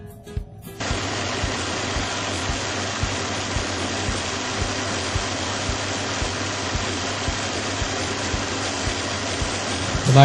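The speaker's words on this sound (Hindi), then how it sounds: "तो अब हम इसको ग्राइंडर में डाल के पीस लेंगे।" An electric kitchen grinder runs steadily on chopped tomatoes to make paste, starting abruptly after a brief moment and holding a loud, even motor whir throughout with no talk.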